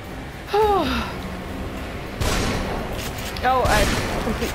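Enemy gun firing in The Evil Within, a few sharp gunshot bursts spaced seconds apart, loud and close, mixed with gasps and exclamations from a player.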